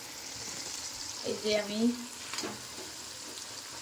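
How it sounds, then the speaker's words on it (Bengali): Capsicum and green peas fry in a pan with a steady close sizzle, louder bursts as the pieces are stirred, while someone speaks briefly over it. "কি বলে কড়াইশুঁটি ভাজি করছি"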